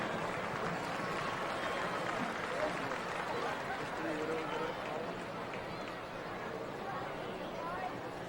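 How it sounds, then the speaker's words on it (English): Crowd applause at a high school football game, Kahuku versus St. Louis, a dense, steady wash of clapping and chatter from a large stadium audience. "Give them a round of applause."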